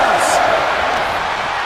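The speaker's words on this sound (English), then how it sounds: "when you can't hear yourself think because the crowd's so loud" Roaring arena crowd at a WWE Survivor Series WarGames cage match, a dense, loud, continuous wall of noise with no breaks throughout.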